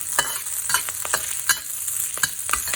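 Oil sizzles in a wok as sweet and sour pork sauce gets going, with quiet steady frying and sharp rhythmic stir clicks of a utensil against the pan, no voices.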